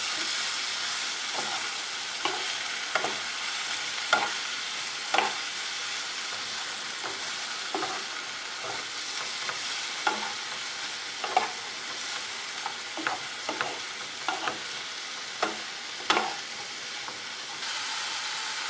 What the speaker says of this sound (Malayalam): നമുക്കിതെല്ലാം കൂടെ നന്നായിട്ടൊന്ന് യോജിപ്പിക്കാം.